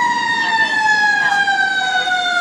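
Loud fire truck siren in Ontario, a steady wailing tone with strong overtones that drifts slowly downward in pitch as the vehicle passes close by, with no talking.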